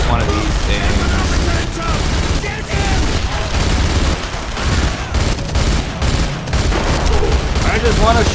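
In the video game Enemy Front, an MG-42 machine gun fires in loud, rapid, sustained bursts with short gaps between, a dense continuous rattle of shots close up.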